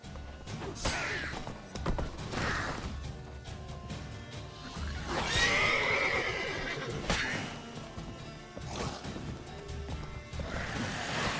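The horse Roach in the video game The Witcher 3 whinnies loudly over the clip-clop of walking hooves, with the neighs and steady hoofbeats continuing throughout at close range.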